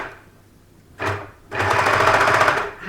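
An overlocker serger stitches a cardigan in two bursts, a short run and then a longer steady rattling stretch, close and fairly loud.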